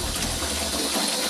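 Water runs steadily from a faucet inside an RV under remodeling, a loud, close, continuous gushing splash with no talking.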